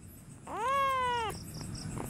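A cat gives one clear, drawn-out meow, close and fairly loud, at night in a playground, over a steady background hiss and faint ambient noise.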